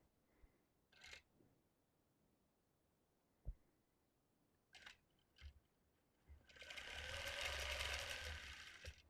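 A custom quilting machine stitching a Lone Star quilt gives a few isolated clicks and taps, then starts up into a steady, fairly loud whirring run over the last few seconds.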